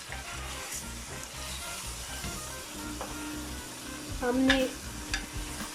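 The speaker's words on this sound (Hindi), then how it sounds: "पायों को इसके अंदर थोड़ी देर भूनना है, भूनेंगे।" Beef trotters frying in a small pressure cooker, a steady close sizzle with stirring scrapes, a louder burst of frying near the end, and a voice briefly speaking over it.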